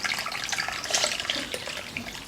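A cocktail poured from a shaker into a rocks glass over ice, a close, steady splashing trickle of liquid with light clinks throughout.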